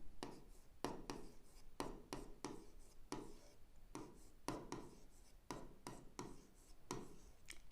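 Rapid pen or marker strokes writing numbers by hand in black ink, a series of short scratchy taps and scrapes in quick irregular rhythm, close and faint, no voices.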